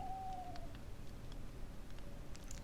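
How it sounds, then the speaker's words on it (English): A bird calls outside in an inner courtyard beside an apartment, a hooting, owl-like note that sits faint and distant under steady background noise. "could hear that bird just now."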